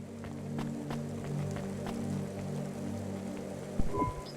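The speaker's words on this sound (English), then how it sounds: "Don't let all the rain get you down." Steady rain falls throughout a scene in the video game Cloudpunk, a constant soft patter with a low hum beneath, closing on a brief louder knock near the end.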